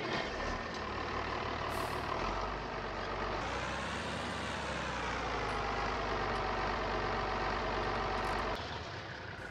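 Old International tractor engine running in Farming Simulator 19, a steady loud diesel drone with a brief rise in pitch partway through, heard alone without talk.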